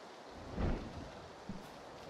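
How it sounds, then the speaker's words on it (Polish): Thunder rumbles with rain during a storm in the video game PUBG, a single deep swell of thunder near the start over steady rain hiss, with a smaller thump later. "Tutaj też burza."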